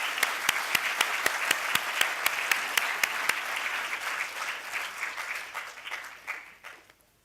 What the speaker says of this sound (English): please give her and all the professors, teachers, family and friends a big applause